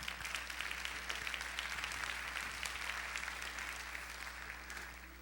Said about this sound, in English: You can applaud Mark